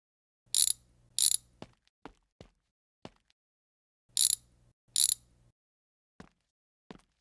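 A wrench clicks in short bursts in a quiet home garage, with several separate ratcheting spurts spaced out amid small taps and clunks, nearby and clear.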